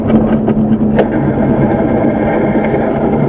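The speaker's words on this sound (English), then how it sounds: "Can you hear the brakes dragging?" Soap box derby car rolling to a stop with its brakes dragging, a steady loud grinding rumble with a brief squeal near the middle, no talking.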